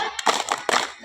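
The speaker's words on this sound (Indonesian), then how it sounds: "tepuk jempol untuk Teddy" A group of children clap a thumb-clap cheer for Teddy at a scout meeting, a few quick bursts of claps close by, with young voices mixed in.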